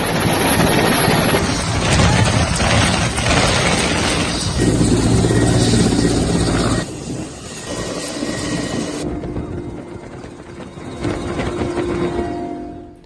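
Rescue helicopters working after the Afghanistan earthquake, a loud continuous rotor and engine roar with heavy wind buffeting, fairly close and then easing slightly in intensity, with no talking.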